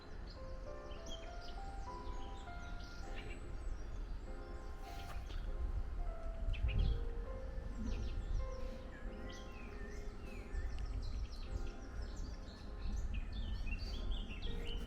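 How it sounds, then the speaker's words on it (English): British birds sing outdoors in spring, a dense layer of chirps and twittering calls from several birds, near and far, over a continuous rustling outdoor background. "An awful lot of British birds you can hear"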